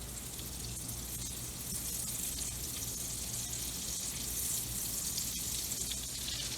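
Olive oil and butter heat together in a pan for chicken fettuccine Alfredo, giving a soft, steady hiss and faint bubbling that stays even throughout, heard alone and not very loud.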